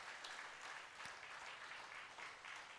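Audience at a brand ambassadors' meeting in Madurai, Tamil Nadu, clapping together in a continuous, fairly even burst of applause throughout, with no voices standing out.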